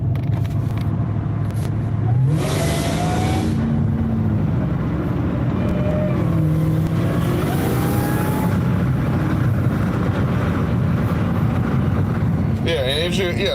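Inside a Dodge Demon 170, a loud, constant engine drone fills the cabin with rising and falling whine tones. People talk over it throughout.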